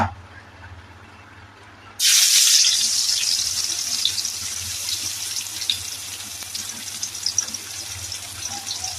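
Crushed garlic and onion drop into hot oil for a mutton dish, setting off a sudden, loud hiss that settles into a sustained, crackling sizzle after a quiet opening.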